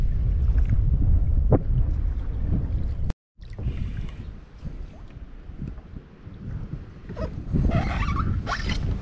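Strong wind buffets the microphone in gusty rumbles while kayaking, with some rustling and a brief dropout, and no voices.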